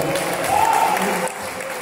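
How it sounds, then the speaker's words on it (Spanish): Applause from an audience at a gathering breaks out and fills the short stretch as a steady, dense patter of many clapping hands, fairly loud and continuous, with voices mixed in. "Y un aplauso."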